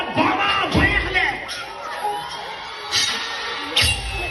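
A wedding party crowd cheers and shouts in bursts, with whoops and excited voices rising and falling, some children's shouting, and a few sharp claps or bangs.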